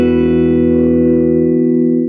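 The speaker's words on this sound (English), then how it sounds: "I want to demo the reverb tank" An original 1964 Fender Vibroverb guitar amp rings out one loud, sustained chord through its spring reverb tank, the tone holding steady and slowly fading over about two seconds with no talking.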